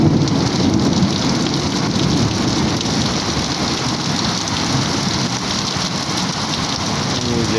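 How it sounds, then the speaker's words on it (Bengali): Heavy rain falls beside a flooded house yard, a dense, loud, unbroken hiss of drops drumming on surfaces throughout, with no voices over it. "এখানে আমাদের এখানে প্রচুর বৃষ্টি"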